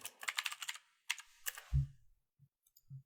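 Computer keyboard keys typed in quick bursts to enter a Linux terminal install command, crisp close clicks in two clusters followed by a few soft low thumps, no voices.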